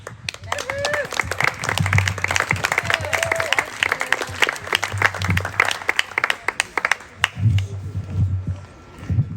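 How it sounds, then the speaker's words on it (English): An audience claps at an outdoor Climate Action Rhode Island picnic, with bursts of applause that fade and swell again at moderate distance while people talk and call out over the clapping. "Let's clap again for Aaron and all the work he's doing."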